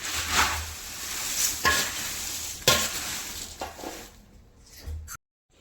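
Puffed rice chevdo, a Gujarati snack mix, stirred in a pan, giving a steady dry rustle and scrape with a few louder scoops before it stops near the end; no one speaks.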